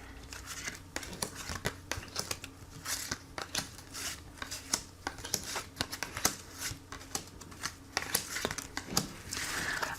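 Tarot cards being shuffled for a reading give rapid, crisp riffling and flicking bursts close by, continuing throughout.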